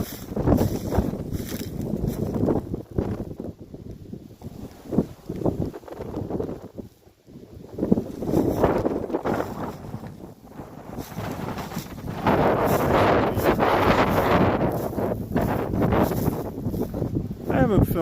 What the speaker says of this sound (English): I'm sure you can hear the wind in the video.